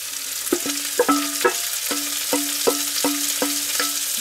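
Chopped vegetables and tomato paste sizzle and fry in a Dutch oven, a steady close crackle punctuated by regular scraping knocks of a stirring spoon, with no talking.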